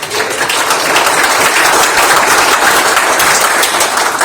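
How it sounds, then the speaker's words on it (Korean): An audience at a science seminar gives dense, continuous applause to welcome an arriving guest, steady and loud from start to finish without pauses. "박수로 환영해 주십니다."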